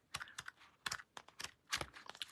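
Sheets of patterned paper are flipped through quickly, giving a run of sharp, papery flicks and rustles in an irregular rhythm, close and fairly quiet.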